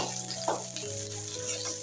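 Chopped onion and green chili sizzling in freshly added oil in a pan, a brief close, steady frying hiss with a faint stir scrape near the middle, no talking.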